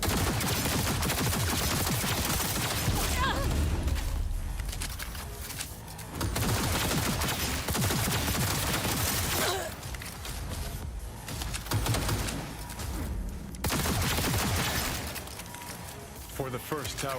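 Sustained bursts of gunfire in the video game Cyberpunk 2077, loud and continuous across the clip with brief lulls between volleys, layered with other game sounds.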